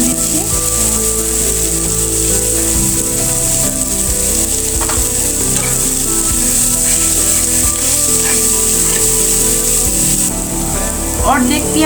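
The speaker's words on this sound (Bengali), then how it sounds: "এবার আমি পেঁয়াজগুলো ভালো করে ভেজে দেব।" Onions frying with turmeric in a pan give a loud, dense, close sizzle that crackles steadily without pause, with light stirring scrapes over a constant low hum, no talk.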